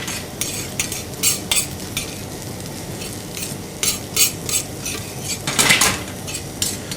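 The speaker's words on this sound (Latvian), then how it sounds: "un noskrāpējam to pannu dibeni." A metal utensil scrapes and stirs across the bottom of a frying pan as almonds toast in it, with repeated clinking strokes and a steady sizzle underneath, close and moderately loud.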